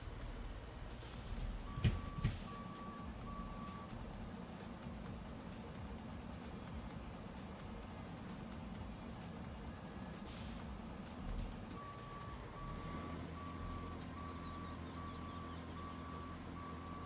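A truck in the video game RoadCraft reverses and parks with a low engine rumble under intermittent electronic reversing beeps. The beeping starts, stops for several seconds, then returns as the engine note rises.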